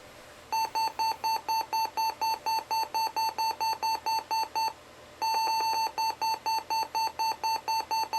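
A Compaq Armada Pentium MMX laptop beeps rapidly in regular bursts during computer setup, a brief pause, then the beeping resumes just as insistently; close and fairly loud, with no talking.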